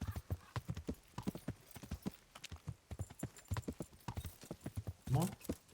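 Horse hooves clip-clop in a steady, rhythmic gait throughout, ridden in the medieval game Kingdom Come: Deliverance, with a voice speaking over the hoofbeats.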